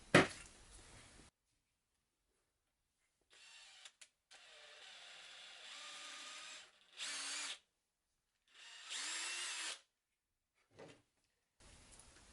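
Leather being drilled for Ghostbusters belt fobs, heard as several separate bursts of a power drill whirring in short runs with quiet gaps between them, fairly faint and close, with no talking.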